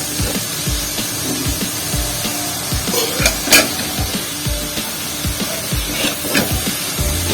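Full-cream milk poured over hot grated carrots in a pan for gajar ka halwa, with a steady close sizzle, utensil clinks and rhythmic stirring scrapes, with no voices.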